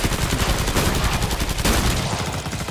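An MP7 submachine gun in Killing Floor 2 fires a loud, continuous rapid stream of shots for almost three seconds without a break.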